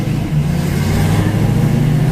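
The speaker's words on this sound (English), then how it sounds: "Sounds like a race car. Runs good." A 1970 Ford Boss 302 V8 with a solid lifter cam revs loudly and steadily nearby, its deep exhaust rumble sustained with no talk over it.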